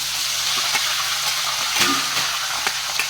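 Peanuts, chana dal, urad dal, green chilies and curry leaves sizzling in hot oil, a steady close frying hiss with occasional stirring scrapes and small pops.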